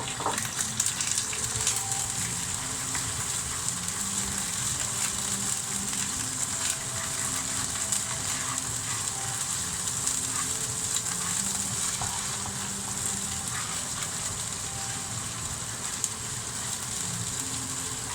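A teaspoon each of garlic paste and ginger sizzling in a hot pan, a dense, steady hiss and crackle that holds evenly for the whole stretch, close and fairly loud, with no talk.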